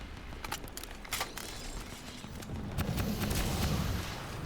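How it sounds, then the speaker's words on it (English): A Gauss cannon in the video game Crysis 3 fires in a string of sharp, booming discharges, several quick blasts in a row followed by a heavier rumbling volley, loud and dense with no talking. "I love the Gauss cannon."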